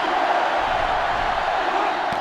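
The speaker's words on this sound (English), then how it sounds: "this crowd is going absolutely insane" A stadium crowd in the NCAA Football 2005 video game during LSU at Pittsburgh roars in a steady, dense wash of cheering that holds throughout, with a brief thump near the end.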